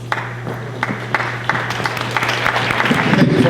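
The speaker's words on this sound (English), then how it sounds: "Hold your applause for a second" Audience applause in a hall at a school board presentation on bullying prevention, a steady patter of many hands clapping that swells slightly louder toward the end, with a low hum underneath.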